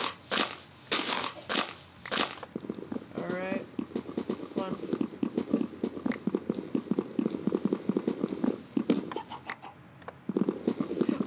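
Wood blocks being broken in Minecraft with a shaders mod: rapid, repeated crunchy clicking and tapping hits, steady and fairly loud, running throughout beneath someone talking.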